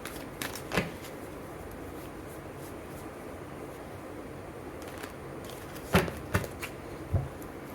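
Tarot cards being shuffled by hand in a quiet room, soft papery riffles and a few sharper snaps and taps of the deck, close and faint, mostly near the start and toward the end.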